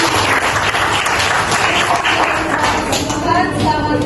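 An audience at a student exam presentation applauds, a dense, continuous wash of many hands clapping that holds steady and fairly loud for several seconds.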